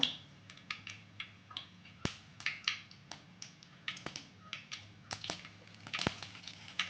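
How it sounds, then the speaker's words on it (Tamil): Mustard seeds spluttering in hot oil in a pan, a run of sharp irregular pops and crackles, some loud and close, sounding alone against a quiet background. "கடுகு வந்து பொரியட்டும்"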